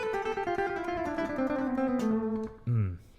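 Electric guitar runs a minor-scale pull-off exercise, a quick descending string of legato notes ringing up close, ending with a brief lower phrase, with no talking.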